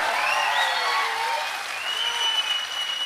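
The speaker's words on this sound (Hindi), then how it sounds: "तालियां कमजोर है, कमजोर है।" Audience applause at a motivational talk, a dense, steady wash of many hands clapping together, loud and close throughout without pause.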